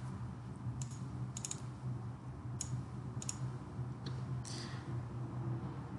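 Several quick bursts of typing on a computer keyboard, clustered into short runs of clicks over a steady low background hum, with no talking.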